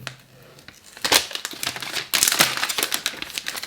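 Plastic wrap is torn and pulled off a red iPhone 12 box, giving close crinkling and crackling bursts that swell and fade in uneven waves, loudest in the second half.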